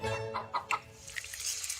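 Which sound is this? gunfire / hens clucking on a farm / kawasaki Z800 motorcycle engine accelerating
hens clucking on a farm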